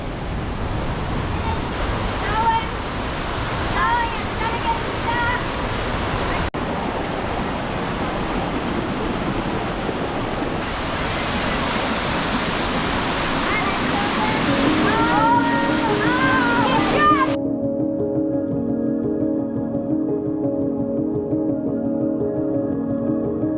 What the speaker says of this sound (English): Another pretty big, impressive waterfall.